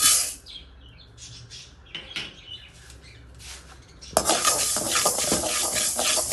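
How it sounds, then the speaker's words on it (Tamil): Urad dal dry-roasts in a pan: a few light metallic clicks, then a sudden broad rattling hiss as the dal is tipped in and stirred, continuing steadily and close. "இப்போ இதை போட்டு வறுத்துக்கலாம் ஒரு கப்பு"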